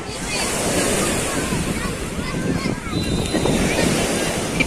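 Gentle sea waves washing steadily onto Gleem beach in Alexandria, a continuous soft surf wash with wind noise across the microphone and a faint murmur of voices in the background.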